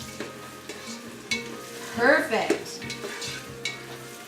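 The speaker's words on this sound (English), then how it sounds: "let's get those onions a stir and see where we're at" Onions sizzle in a pot for chicken stew as a spoon stirs them in regular scraping strokes, a soft close frying hiss throughout, with one brief spoken word midway.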